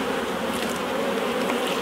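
Honey bees swarm around an open hive in a UK apiary, their dense, steady buzz close and loud, filling the whole moment without a break.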